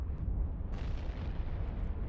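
Ships fire on each other during a mission in the space game EVE Online, a continuous low rumbling barrage of booms with a sharper burst partway through.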